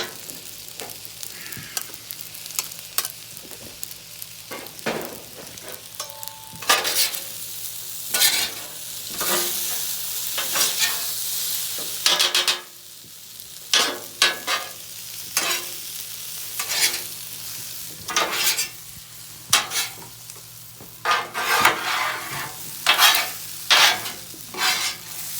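Beef fried rice is stirred and scraped on a hot griddle: sharp metal spatula strokes come in irregular bursts over a soft, steady sizzle.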